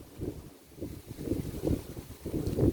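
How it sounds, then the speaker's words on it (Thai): Strong, dry, gusty wind buffets the microphone in low rumbling surges that rise and fall, with no voices. "แต่ว่าจากลมแห้งเนาะ ลมแรงไปหน่อยนึง"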